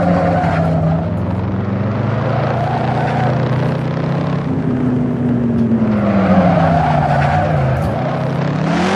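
A Shelby Cobra 427 accelerates on the New York Safety Track, its loud V8 roaring continuously through rising and falling revs across repeated gear pulls, heard up close without talk.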